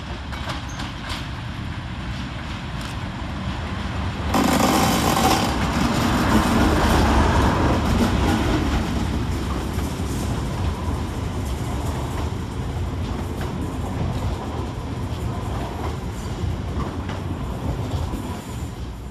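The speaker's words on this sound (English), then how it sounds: "37884 drags 730-001, working 5Q66 from Loughborough Brush to Oxley Car MD" Class 37 locomotive 37884 hauls unit 730-001 through Wolverhampton station, a steady rolling rumble with wheel and rail noise that swells loudly as it passes close, then eases to a continuing nearer-to-distant clatter.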